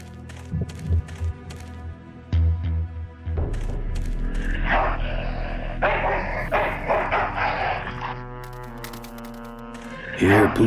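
In the Full Throttle Remastered PC game, a dog barks and yips in a few short bursts among clanks and other game effects, with someone speaking in between.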